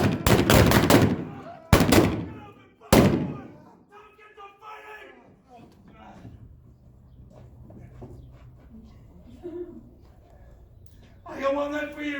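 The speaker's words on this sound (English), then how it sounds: "You blaze away, Frank." Gunshots at an OK Corral gunfight reenactment in Tombstone, Arizona: three loud, sharp blasts in quick succession at the start, followed by quieter outdoor crowd murmur and distant voices, with a later burst of shouting.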